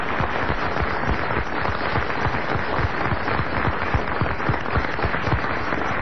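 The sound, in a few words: radio show audience applauding in tribute to Frédéric Dard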